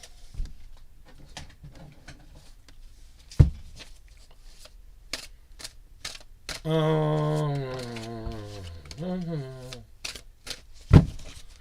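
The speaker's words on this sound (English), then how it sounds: "I'm doing a cleansing shuffle for Duck here." Tarot cards being shuffled in quick, crisp riffles and taps, close and intermittent, with a brief stretch of background tones in the middle and occasional thumps.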